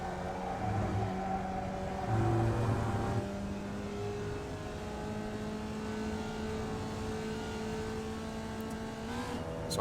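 A Formula Vee race car engine in the iRacing video game at Oulton Park, droning steadily with shifting pitch as it holds revs and changes gear, continuous and fairly close without any talk.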